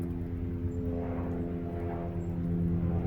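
A squirrel helicopter passes overhead as a steady, droning engine and rotor hum, moderately distant and constant throughout, with no talking.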